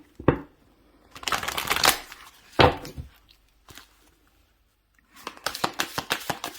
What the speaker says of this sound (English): I'm just going to give it one shuffle and another shuffle.